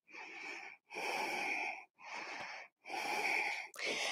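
Deep yoga breathing in a standing split pose: four long, loud, audible breaths with short pauses between, each a breathy rush close to the listener.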